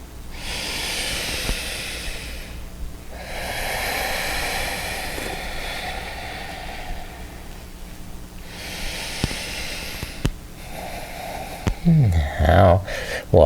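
Slow yoga breathing, long airy inhales and exhales repeating in a steady rhythm close to the microphone, with some shuffling and rustling near the end.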